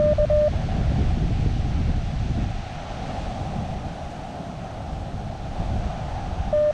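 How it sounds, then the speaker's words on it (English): Strong wind blows steadily across an open outdoor spot, a constant broadband roar with gusts that rise and ease, buffeting the microphone the whole time. "the wind's picking up"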